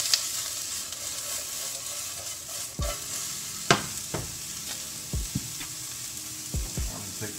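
Butter sizzling over medium heat in a pan before plant-based beef crumbles go in, a soft continuous hiss broken by several low thumps and knocks of utensils, close by with no voices.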